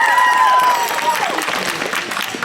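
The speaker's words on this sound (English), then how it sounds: "A round of applause if you have seen my show before" An audience at a Renaissance festival comedy show claps in a lively burst that starts loud with a whistle or cheer on top, then gradually thins and fades.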